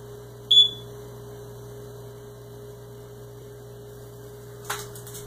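A single short, shrill electronic chirp from a smoke detector over a steady low electrical hum, followed by a faint clatter a few seconds later.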